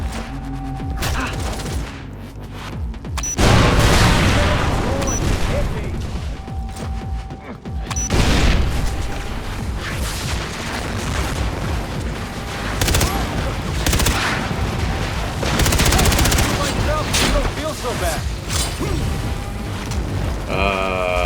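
Grenade and mine explosions in Far Cry 3 crackle among dense gunfire and booms, loud and continuous throughout, with a voice shouting over the din.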